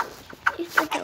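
A rooster in a Roblox video game gives a few short, bright clucks in quick succession, close and fairly clear, with no talk over them.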